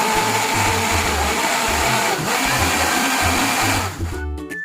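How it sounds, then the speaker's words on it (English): Blender whirring through aloe vera, ginger and water: a loud, steady motor roar with liquid churning that runs for about four seconds, then cuts off. "and cover it up and then blend it."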